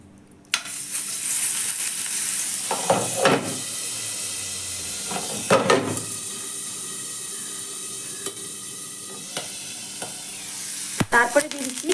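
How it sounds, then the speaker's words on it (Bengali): Black mustard seeds sizzle in a little refined oil in a frying pan, a steady close hiss with a few louder stirring scrapes and sharp pops scattered through. "এবারে ফোড়নে দিব কালো সর্ষে 1/2 চা"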